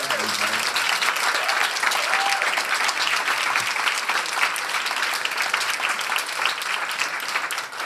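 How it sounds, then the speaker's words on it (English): An event audience at a writing jam in Reykjavík claps for nearly eight seconds, a dense, even wash of many hands. "Let's hear another round of applause for Karen."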